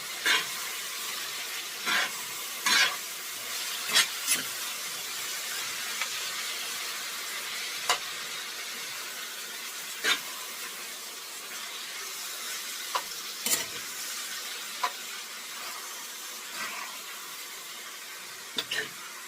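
A pot of chili simmers with a steady, soft sizzling hiss, broken by occasional faint clicks and knocks of a utensil, close by and with no one talking.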